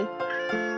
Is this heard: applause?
no